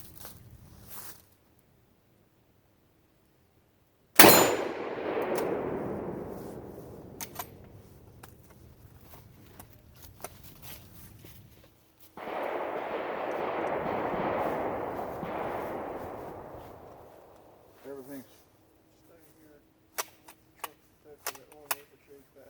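A Lee Enfield rifle fired at a bottle outdoors in the cold: a sharp loud shot followed by a long fading echo, then a second rumbling report, and a few bolt and magazine clicks near the end.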